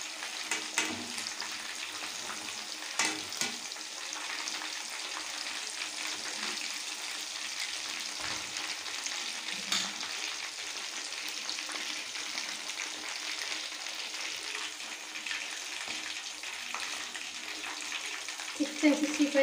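Chicken 65 deep-frying in hot oil gives a steady, close bubbling sizzle with occasional crackles, and a voice speaks intermittently over it.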